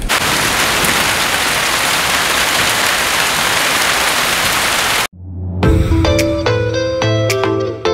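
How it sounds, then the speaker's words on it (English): Heavy thunderstorm rain pours in a dense, steady hiss for about five seconds, then cuts off abruptly and gives way to a different, tonal sound. "it just started raining"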